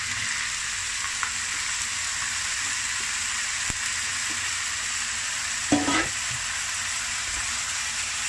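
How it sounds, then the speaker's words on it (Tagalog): Marinated beef fries in a pan with a steady, close sizzle, and a brief scrape of stirring sounds partway through. "At kapag namamango na, ilagay na itong marinated beef."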